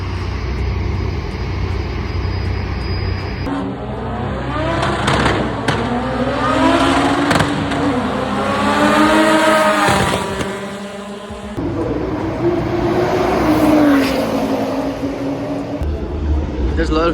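Cars drive past and rev at a car meet with Skylines among them: engine notes climb and fall in sweeping passes over a steady outdoor rumble, loud and nearby, with talk mixed in.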